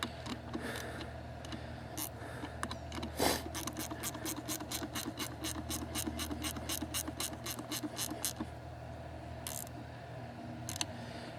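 Ratchet tightening nylock nuts on Mercury outboard control cables, a fast, even run of close, crisp clicks in a burst lasting several seconds, with scattered single clicks and light handling noise before and after.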